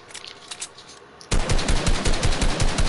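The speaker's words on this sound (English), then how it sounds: "I'm shooting. I'm trying to shoot you." Gunfire in the video game Fortnite: a quieter stretch gives way to loud, rapid automatic bursts that continue steadily to the end, with no talking.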